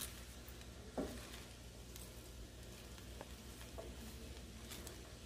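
Cabbage being stirred into pork lomi in a pan, giving a faint, steady sizzle with a few soft scraping knocks from the utensil, all quiet and close.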